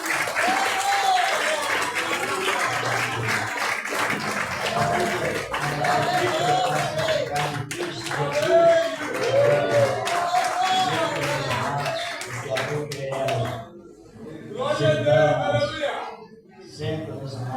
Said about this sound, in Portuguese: E a igreja aplauda ao Senhor Jesus.